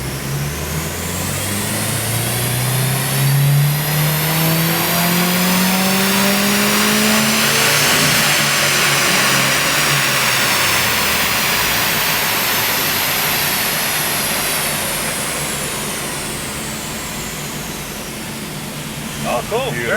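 A Subaru WRX STI with a swapped 2.5-litre twin-scroll turbo engine screams up through the revs on a dyno, pitch climbing steadily to a loud sustained wail before easing off, with voices underneath.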